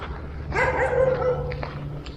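Dogs bark around a Buddhist temple in Thailand, Wat Bo Thong in Rayong. One drawn-out bark or howl sounds at middle distance, followed by a couple of fainter yips over the background hum.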